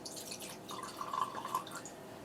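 Black Bottle blended Scotch whisky being poured into a glass, a soft trickling liquid sound rising briefly in the middle of the short clip, quiet and close with faint room noise and no talking.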